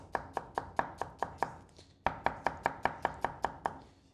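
Rapid, regular knife strokes ring out close-up as onion is diced finely on a wooden board, two bursts of sharp taps with a tiny gap between them and no speech.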